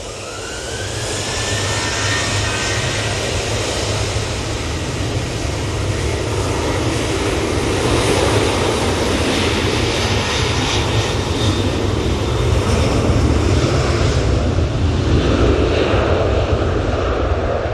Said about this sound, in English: So this 737-800 is off to Zakynthos.